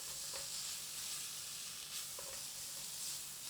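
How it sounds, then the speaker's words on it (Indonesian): Roasted chilies sauté in a pan for baingan bharta, producing a loud, continuous hissing sizzle that stays close and even, with a couple of soft stirring knocks. "Kita tumis sebentar."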